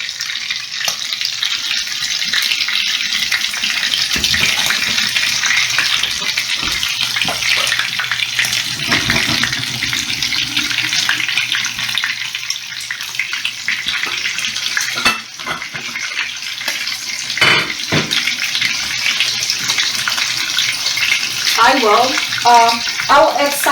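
Water from a pot of boiled potatoes pours out in a strong, continuous rush into a sink, steady and close for the whole stretch, with a few clatters of the pot near the end.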